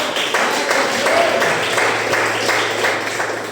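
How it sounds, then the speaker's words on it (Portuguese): Steady applause from a church congregation during a prayer service fills the whole stretch, dense and even, with no voices standing out. "Aplauda o Senhor."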